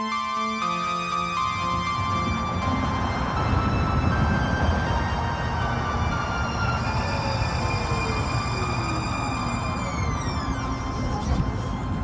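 A Red Line light rail train bound for Daybreak passes loudly and close, its humming motor tones and wheel rumble filling the whole stretch, with the pitch sliding downward as it moves away.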